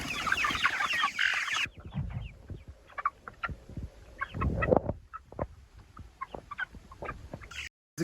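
Chickens cluck and chatter nearby in a dense, overlapping flock, with bursts of busy clucking and scratching throughout and no talk.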